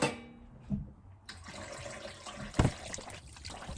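Sardines being rinsed under running water from a tap, steady splashing and trickling with a few louder splashes, no talking.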